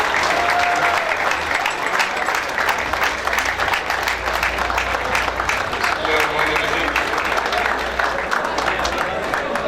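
A reunion-party audience of a civil engineering department gives steady, loud applause to welcome a speaker to the stage, a continuous dense clapping crowd with faint voices underneath throughout.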